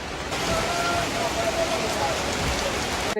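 Heavy rain pours steadily at a hill-country stop in Sajek, a dense continuous hiss filling the whole stretch, loud and close, with faint speech-like tones buried underneath.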